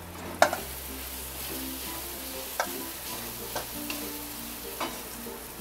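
Masala roasts in a pan for a Maharashtrian matki and moong dry bhaji, giving a faint, steady sizzle broken by a few soft clicks and scrapes of stirring.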